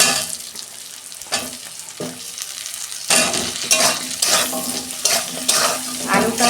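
Potatoes and onions frying in oil in a pan for a Bengali dish, with a steady crackling sizzle broken by louder bursts of stirring and scraping, close up and without any talking.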